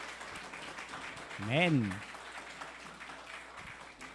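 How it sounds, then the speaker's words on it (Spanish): Church congregation applauding, a dense noisy spread of many hands clapping throughout, with one voice rising in a sung exclamation partway through. "démosle un aplauso al Dios Todopoderoso para que ese sueño se vaya"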